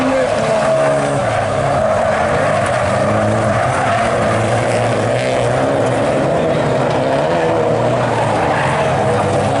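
Rallycross race cars roar continuously around the Pont-de-Ruan circuit during a French championship final, engines wailing and tyres squealing at a distance while a commentator talks excitedly over the steady din.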